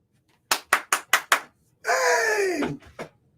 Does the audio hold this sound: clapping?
yes